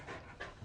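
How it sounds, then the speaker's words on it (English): A fit dog panting softly in quick, breathy rhythm beside the River Irwell in Salford, faint and steady with no voices over it. "He's a fit dog, isn't he?"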